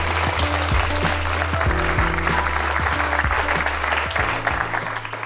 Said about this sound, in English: So a great big round of applause for John Burns to join me here.